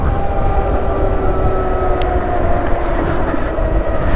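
A steady high-pitched electric motor whine from a 2022 LiveWire One electric motorcycle ridden in London, with faint tonal lines, over a constant rumbling road and wind noise, loud and continuous.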